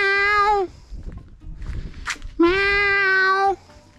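A cat on a farm with rebellious peacocks gives two long, clear meows separated by a short pause, close and loud, with faint rustling and shuffling in between.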